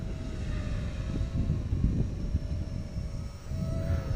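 A VQ250 tilt-rotor quadcopter flies nearby with a steady, buzzing whine of spinning rotors, fairly loud and continuous, with slight shifts in pitch and no talk.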